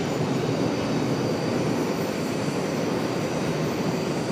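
A Boeing 737 passing at Charlotte airport, heard as a steady, broad jet-engine roar that stays loud and constant for the whole stretch, with no talk.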